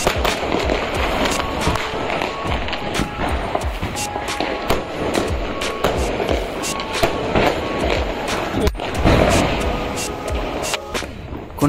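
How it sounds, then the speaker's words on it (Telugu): Diwali firecrackers burst continuously in an outdoor family celebration, a dense crackling string of small sharp pops with a few louder bangs, steady and fairly loud throughout. "కొన్ని రకాల టపాస్ అయితే కాల్చినాం అన్నమాట"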